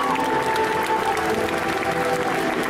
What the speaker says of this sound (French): Alors on les applaudit bien fort